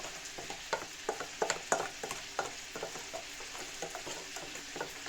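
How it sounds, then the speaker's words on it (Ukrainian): Chicken drumsticks frying in homemade butter in a pan, with a soft steady sizzle broken by repeated clicks and scrapes of stirring. "Ножки я відправила на пательню, жариться на маслі."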